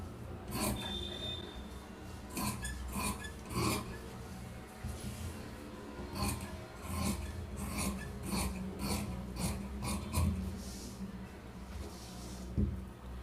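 Scissors snip through a fabric sleeve on a cutting surface, giving a steady run of short, close rasping cuts with light handling noise in between.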